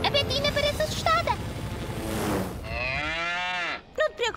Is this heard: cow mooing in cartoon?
yes